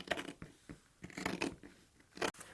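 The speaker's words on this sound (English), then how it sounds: "cut out all 4 corners at the same time." Scissors snip through laminated fabric layers, trimming corners, a handful of short crisp cuts in an uneven rhythm, close and fairly quiet.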